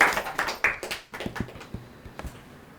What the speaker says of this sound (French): je voulais quand même qu'on puisse applaudir Michel Sanson pour être là avec nous ce soir